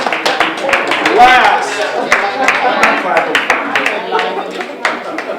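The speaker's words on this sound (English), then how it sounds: "give yourselves a round of applause" Committee members at an ARPA advisory committee meeting clap for themselves, a loose scatter of distinct hand claps from a small group, close and fairly loud, mixed with talking voices throughout.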